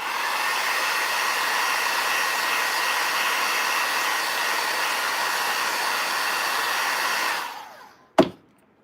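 A heat gun warming resin in Easter egg molds makes a constant blowing whir with a hissing edge. It runs for about seven seconds, cuts off, and ends with a single sharp knock.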